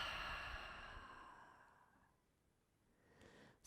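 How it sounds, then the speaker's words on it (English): Long, breathy exhale through an open mouth after a held breath during a hatha yoga flow, close and soft, fading out gradually, followed by the start of a faint intake near the end. "hold your breath, and then open your mouth and exhale."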